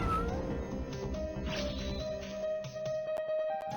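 Cats meowing in the video game Epic Battle Fantasy 2, short cartoonish cries over busy battle music and effects, loud and continuous with no talking.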